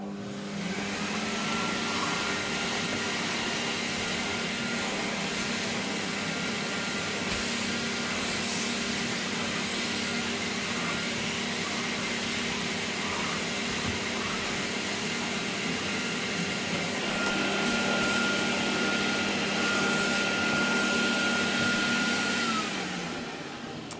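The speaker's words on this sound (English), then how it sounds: "pop the floor tool on, and we'll do a quick bit of vacuuming." A Hoover Aquatronic S3486 wet-and-dry vacuum cleaner, rated at 1100 watts, runs with its floor tool on a floor, giving a continuous loud whooshing roar. The roar swells and shifts in pitch briefly near the end.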